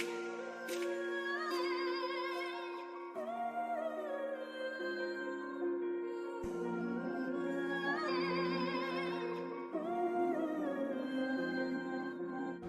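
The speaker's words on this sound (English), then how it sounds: "First of all, I used the sample from Beatz loop kit." A melodic drill beat loop sample from a Beatz loop kit, sustained tonal layers shifting through chord changes every couple of seconds with bright plucked accents, steady and moderately loud, with no drums or voices.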